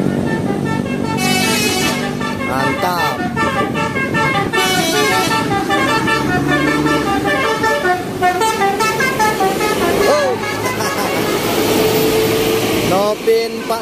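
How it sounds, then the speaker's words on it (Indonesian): A Satu Nusa intercity bus coming from the direction of Bukit Tinggi rumbles loudly past on an Indonesian road, with melodic horn toots and a voice talking over the traffic. "Oh, yang ini ada bus Satu Nusa teman-teman."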